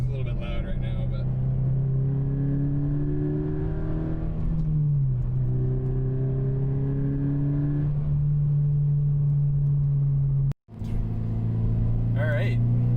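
Scion FR-S fitted with a Supertrapp WaveTech muffler, cruising in third gear with a steady, loud exhaust drone that dips briefly midway and cuts out for a moment near the end, while someone talks over it.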